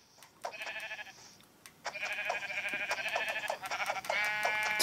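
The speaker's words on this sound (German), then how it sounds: "Ich höre ein Mähen. Scharf. Irgendwo ein Schaf." Sheep in the video game Minecraft bleat repeatedly, three or four wavering nasal calls in quick succession, close and clear, with small clicks scattered between them.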